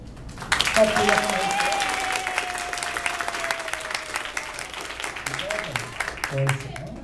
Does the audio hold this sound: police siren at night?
no